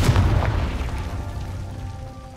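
A Confringo explosion spell goes off in Hogwarts Legacy: a single loud, close boom with a sharp onset, followed by a rumbling tail that fades over about two seconds.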